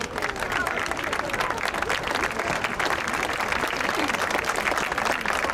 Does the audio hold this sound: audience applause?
yes